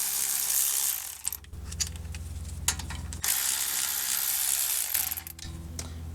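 A ratchet spins the brake caliper slide pin bolts off a 2017 Honda CR-V's front brakes, making rapid, close mechanical clicking in long runs split by short pauses.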